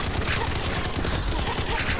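Sustained heavy gunfire in the online shooter Combat Master, a dense fusillade of rapid automatic shots filling the whole stretch loudly and continuously, with no pauses.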